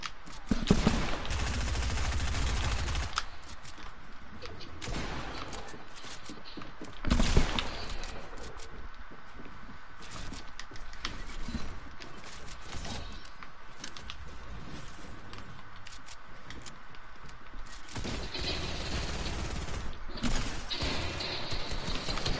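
Gunfire in a shooter video game crackles steadily throughout, mostly moderate with one sharper, louder shot standing out, a dense running exchange with no talk on top.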